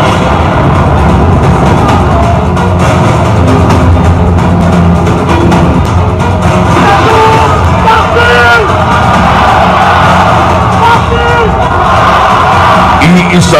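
Large crowd at a political rally in Bohol for Duterte, loudly shouting, whooping and cheering continuously, with many voices yelling together.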